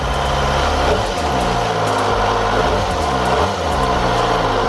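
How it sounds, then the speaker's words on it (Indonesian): Kawasaki ZX25RR 2023 sport motorcycle with a fully stock exhaust, its engine running close up with a steady buzzing tone and several quick throttle blips that rise and fall, no talking. "suara standarnya, karena ini masih full standar dari segi knalpot"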